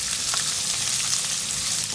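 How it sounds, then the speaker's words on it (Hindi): Small chopped onions frying in hot oil with cumin seeds, a loud, dense, continuous sizzle close by, no voices. "2 छोटी प्याज है, इनको मैंने छोटा छोटा कट कर लिया ऑमलेट स्टाइल में, ये डालूंगी इसमें।"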